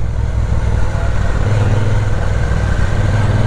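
Used 2019 superbike with about 5,900 km on it, engine running steadily while being ridden: a loud, continuous low rumble that stays even throughout, close and alone.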